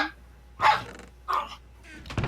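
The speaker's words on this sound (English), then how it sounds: "Your Chihuahua playing?" A Chihuahua in a playful mood gives a few short, sharp yips and barks, separated by brief pauses, fairly close by in a quiet room.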